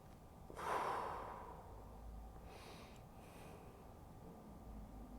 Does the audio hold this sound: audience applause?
no